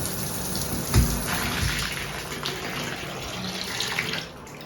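Water runs from a hotel room shower in a steady, hissing spray, with a brief splash near the start. It stays fairly close and then softens at the end.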